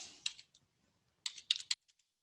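Someone types on a computer keyboard in short, crisp bursts of clicking keystrokes separated by a pause, close and quiet, with no talking.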